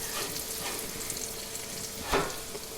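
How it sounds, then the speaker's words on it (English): Brown sugar caramelizing in hot bacon fat gives a steady, close sizzle and crackle throughout, with a brief louder burst of spitting near the end. "When I add the brown sugar, I let it caramelize with the bacon fat."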